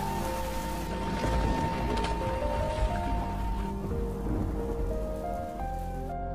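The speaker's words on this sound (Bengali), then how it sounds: "হঠাৎ করে খুব বৃষ্টি শুরু হয়।" Heavy cartoon downpour, a dense, steady rush of rain with faint low rumbles like distant thunder, continuous throughout with no voices.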